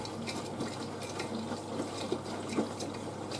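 A V-Zug Adora SLQ washing machine fills with water for a rinse, giving a faint, steady rushing and trickling stream with small splashes throughout.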